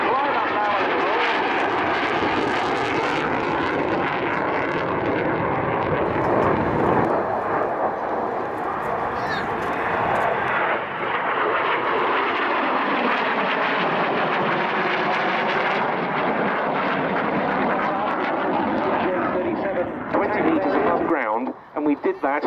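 A Saab JA37 Viggen double-delta jet fighter climbs after a full 360-degree turn at the RAF Waddington airshow. Its loud, continuous jet roar swells and fades while a commentator talks over it.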